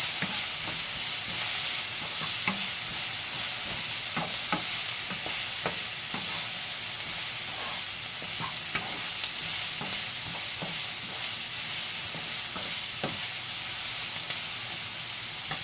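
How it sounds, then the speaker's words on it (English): Vegetables frying in a pan: a loud, constant hissing sizzle under repeated light clicks and scrapes of a spatula stirring at an uneven pace, with no talk. "But just fry this up."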